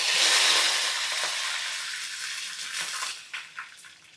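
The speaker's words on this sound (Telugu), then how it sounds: "అట్లా కొంచెం కరివేపాకు వేసేస్తా ఈ ఆయిల్లో" Curry leaves hit hot oil for a potato snack, giving a loud bright burst of sizzling and crackle that slowly settles, with a few sharp pops near the end.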